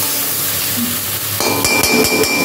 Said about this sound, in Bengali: কাশ্মীর লঙ্কা, ধনে করে যে বাটাটা করে রেখেছিলাম মশলা পেস্টটা, সেটাকে দিয়ে দিলাম। সমস্তটাকে আবার একটু সুন্দর করে নাড়িয়ে চালিয়ে